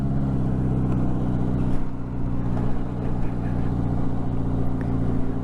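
A Wang motorcycle being ridden: a continuous, fairly loud engine drone holding a steady pitch with slight wavering, heard close throughout without pause.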